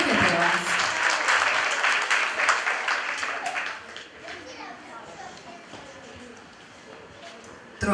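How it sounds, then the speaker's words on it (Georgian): Applause from an audience at a children's music event in Georgia's Imereti region honoring the coordinator, dense clapping strongest in the first few seconds, then thinning to scattered claps with children's voices chattering underneath. "ამიტომ ხოლმე აპლოდისმენტებით ქალბატონ ქეთევანს"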